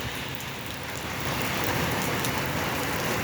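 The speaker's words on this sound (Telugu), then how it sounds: "ఎందుకంటే వాన జాస్తి అవుతుంది ఇంకా లోపలికి వస్తూ ఉంది" Heavy summer rain pours steadily at Kotilingeshwara Temple, a dense hiss of drops that grows slightly louder partway through, with no voices.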